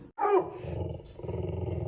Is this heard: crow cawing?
no